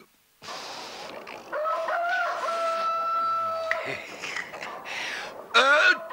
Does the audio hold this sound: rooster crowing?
yes